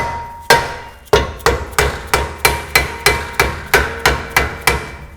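A hammer taps repeatedly on a Nissan Xterra (second generation) rear brake rotor to free it, about a dozen sharp, evenly spaced metallic strikes close up, with no talking.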